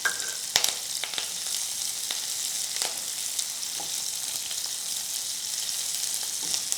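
Small onions and curry leaves sautéing in hot oil for a bitter gourd fry, a continuous close sizzle with occasional crackles and light stirring knocks.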